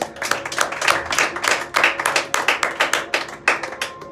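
A church congregation claps hands for the Lord in steady rhythmic unison, loud sharp claps repeating about every quarter second, with no talking over them.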